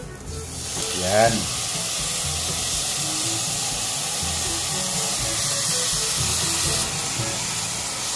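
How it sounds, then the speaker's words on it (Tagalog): Salmon belly hits a hot pan with onion and garlic for a stir-fry, setting off a loud, steady sizzle that holds for several seconds, with a brief voice near the start. "At lalantayin ho muna natin to. Sibuyas. Okay, ngayon naman ay bawang. Yan. Haluin na naman natin. At ngayon naman ay ilalagay na natin ang salmon belly."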